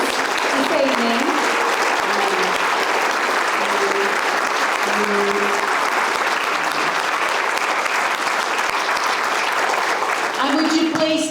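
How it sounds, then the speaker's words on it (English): Sustained applause from an evening audience at a talk event, dense steady clapping throughout, with a few voices and cheers rising near the end. "So a round of applause for the amazing pictures this evening."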